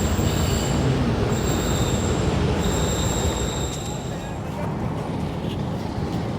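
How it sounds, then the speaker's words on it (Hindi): A passenger train from Karachi to Gujranwala runs toward Okara railway station, loud and close with constant rumbling wheels and high, sustained wheel squeal throughout. "ट्रेन हमारी ओकाड़ा रेलवे स्टेशन अप्रोचिंग बनाते हुए"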